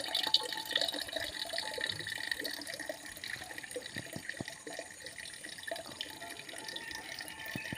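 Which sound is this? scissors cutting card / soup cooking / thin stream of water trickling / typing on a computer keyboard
thin stream of water trickling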